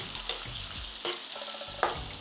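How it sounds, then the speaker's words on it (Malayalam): Salted lemons for lemon pickle are stirred in a hot pan, giving a steady sizzle with a few scraping strokes from the spoon. "നന്നായിട്ട് ഇളക്കി കൊടുക്കണം"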